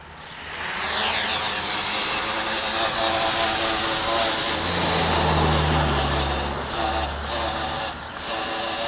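An MJX Bugs 3 quadcopter drone on a 2-cell battery flying over a front yard gives a loud, continuous motor whine and buzz whose pitch shifts and drops as the throttle changes.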